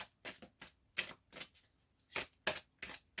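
Angel oracle cards being shuffled for a reading: close, quiet riffling bursts repeating in a brisk, uneven rhythm, with no talking over them.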